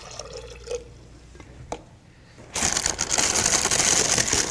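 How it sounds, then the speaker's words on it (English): A cup of water pours into a blender, starting with a few drips and clinks, then after a pause becoming a loud, steady splashing rush that continues to the end. "So I'm going to put about a cup of water"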